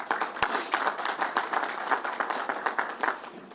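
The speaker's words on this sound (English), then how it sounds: "Let's give them a round of applause." A crowd applauds first responders at a Nassau County announcement with Governor Andrew Cuomo, producing steady, dense clapping that holds at an even level across the whole stretch with no voices over it.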